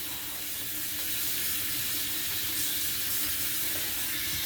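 Tap water runs steadily into a sink for a cold rinse of cotton yarn, a constant broadband hiss and splash heard close and unbroken throughout.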